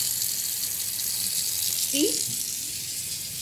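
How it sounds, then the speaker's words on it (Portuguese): Tap water runs into a kitchen sink as a steady, fairly close hiss lasting the whole moment, with a brief voice breaking in near the middle. "Então, você liga a torneira"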